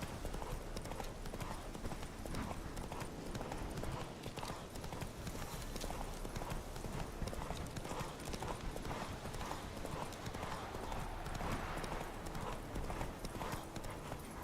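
Roach, a horse in The Witcher 3, trots steadily on a road. The hooves clip-clop continuously and close throughout, with a brief snort and faint ambient game sound underneath.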